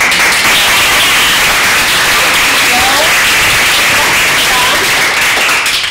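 Loud, sustained applause and clapping from a live audience for contestants at a poetry slam final in a Rotterdam reading room, filling the whole stretch with dense, even noise.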